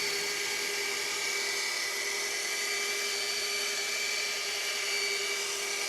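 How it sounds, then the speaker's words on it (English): Rotary polisher working on car paint, a steady, loud high-pitched electric whir that holds constant throughout without pauses or talking. "So again, polishing with a rotary"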